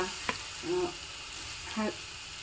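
Masala-mixed jackfruit pieces land in a pan with browned urad dal for a coastal Karnataka dry palya, making a brief close sizzle and stirring scrape with short tonal clinks, fairly quiet.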